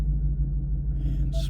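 A Ford Mustang Dark Horse with a Corsa Xtreme exhaust idles in normal mode, giving a steady, low, throbbing rumble with no revving over a brief moment.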